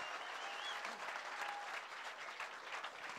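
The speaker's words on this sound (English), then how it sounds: "Give them a loud round of applause, ladies and gentlemen." Steady applause fills a fishing competition weigh-in after a team's bag is announced, a dense, even crowd clapping throughout with no break.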